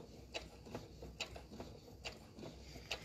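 A sewing machine stitches along a fabric edge while running slowly, giving soft, regular mechanical clicks about every half second over a quiet whirring motor.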